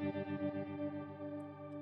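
Opto tremolo from a Line 6 HX Effects unit on a sustained guitar chord, the volume pulsing in a quick regular throb that gradually fades, played quietly with no talking.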